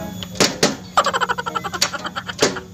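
Someone knocks on a house door in a Sundanese neighborhood comedy scene, giving a series of sharp, hollow raps, some spaced and some in a quick rattling run, fairly close with a steady background hum.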